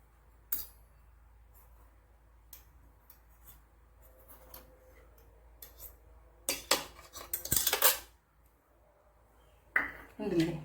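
A spoon stirs a puffed semolina and sugar snack in a metal vessel, giving scattered clinks and scrapes that build into a dense burst of rapid scraping near the end, close up with faint background hum.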